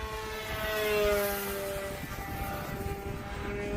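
A Swift RC plane flies overhead on a cloudy evening, its small propeller motor droning in a steady, slightly wavering whine that fades gently as it moves off.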